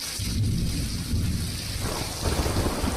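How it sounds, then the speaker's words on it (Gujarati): Thunder rumbles through heavy night rain in Bhanvad, Dwarka, a steady loud hiss of downpour with deep low rolling rumbles underneath, no voices. "દ્વારકાના ભાણવડમાં વીજળીના કડાકા ભડાકા સાથે ધોધમાર વરસાદ થયો"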